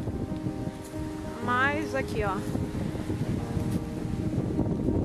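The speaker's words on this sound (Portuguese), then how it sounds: "Então venta muito e às vezes até atrapalha o som." Strong beach wind at Marataízes on the southern coast of Espírito Santo buffets the microphone in a continuous low rumble, while a person speaks briefly over it.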